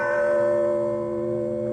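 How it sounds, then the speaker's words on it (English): A large bell rung to summon servants on a grand estate, sounding as one sustained ringing tone that slowly fades, loud and alone with no speech. "Well, that is quite a bell to summon the servants."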